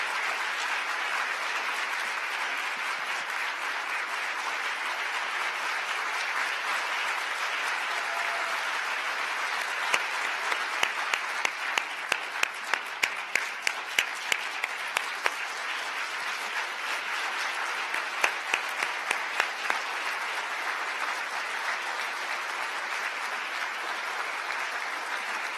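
Continuous audience applause welcomes award recipients at the International Women of Courage Awards ceremony in Washington, a broad, even wash of clapping from a large room with a few sharper nearby claps standing out midway.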